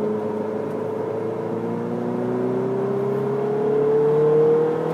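Ferrari 488 GTB twin-turbo engine pulling steadily under acceleration, a smooth rising drone with climbing tones that swells slightly toward the end, heard from inside with no talk.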